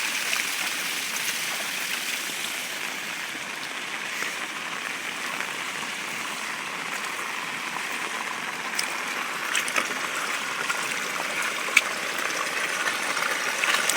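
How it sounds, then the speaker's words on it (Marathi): Floodwater rushing steadily after heavy rain in Wadale, a continuous broadband wash of flowing water that stays even and fairly close throughout, with no voices and only faint scattered knocks. "हे बघा, आणि हे बघा असं जातोय तो पाणी."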